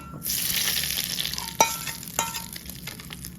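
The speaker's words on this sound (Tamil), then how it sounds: "வெறும் கடுகு கருவேப்பிலை போட்டு தாளித்தா போதும்" Mustard seeds and curry leaves tempering in hot oil for a Coimbatore-style urad dal tomato chutney, a steady bright sizzle with a few sharp pops and crackles, close and alone.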